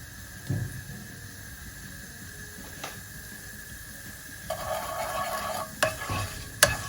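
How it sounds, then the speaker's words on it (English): A teaspoon of cumin seeds fries in hot oil with a quiet hiss in a pan, with occasional light clinks, swelling into a louder steady sizzle toward the end. "a teaspoon of cumin seeds, and let them sizzle."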